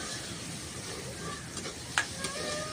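Freshly caught snails fry in a pan, a steady close sizzle with a few faint stirring clicks and one brief sharp tap, no talk over it.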